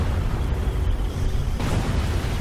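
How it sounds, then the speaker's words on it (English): Artillery shells exploding in the World War II strategy game Company of Heroes, a steady, dense low rumble of booms and blasts filling the whole stretch, loud and continuous with no talking. "I got a little bit of an artillery here."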